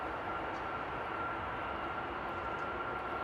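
Airliner taking off from runway 09 at Amsterdam airport, a steady, loud broadband engine roar held without change throughout.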